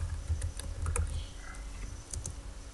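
Keystrokes on a computer keyboard while entering a Visual Basic function, a quick uneven patter of clicks with short bursts and pauses, close and fairly quiet, with no speech.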